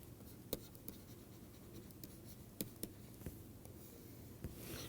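Chalk or marker writing on a board during a university maths lecture on modules and fractions, heard as faint, scattered scratchy strokes and taps over a quiet room.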